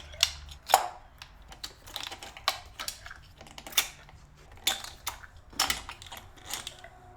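Ignition coils being pulled one by one from a BMW E34 525i M50 straight-six engine during a valve cover gasket job: a close series of plastic clicks, snaps and knocks at an uneven pace, with no talking.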